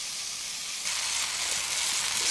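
Eggs, tomatoes and beans sizzle in cast iron pans over an outdoor bushcraft fire, a steady close hiss that swells louder partway through, with no talk.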